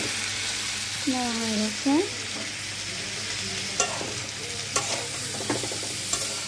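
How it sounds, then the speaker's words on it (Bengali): Chopped tomatoes frying in a pan, a steady close sizzle with scraping spatula strokes and clicks against the pan, while someone speaks briefly early on. "তো আমি টমেটো কুচিটাকে দিয়ে দিচ্ছি ভালো করে।"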